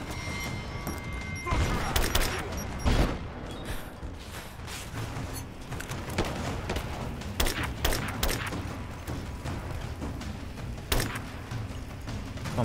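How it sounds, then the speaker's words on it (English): Gunfire in Rise of the Tomb Raider, PC gameplay: repeated sharp shots and bursts spread over steady game ambience and mechanical clatter, with a loud cluster early on and scattered shots later. "Okay, I'm just gonna shoot him."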